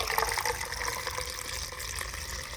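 Water pours into the engine block of an old lowrider, a steady close gushing and trickling fill with no talk.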